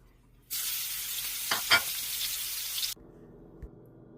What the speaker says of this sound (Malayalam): അതേ എണ്ണയ്ക്കകത്ത് മീൻ വറുത്തെടുക്കുവാണ് ഞാൻ ചെയ്യുന്നത്